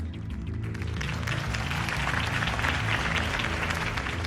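A large crowd applauds loudly and continuously at a political campaign speech in Batman: The Telltale Series, dense clapping with some cheering throughout.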